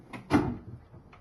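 A storage drawer in the galley of a Jeanneau 42i sailboat sliding open, a short soft rumble and bump close by, followed by a faint knock.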